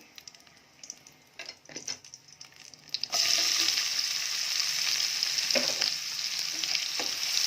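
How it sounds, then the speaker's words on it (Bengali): Cumin, fenugreek, dried red chillies, bay leaves and whole garam masala crackle in hot mustard oil for a fish curry, with a few scattered stirs before a sudden loud, sustained sizzle takes over. "দেখো এখানে সর্ষের তেল দিয়ে নিয়েছি, আর ফোড়ন দিয়েছি জিরে, মেথি, শুকনো লঙ্কা, তেজপাতা, গোটা গরম মশলা।"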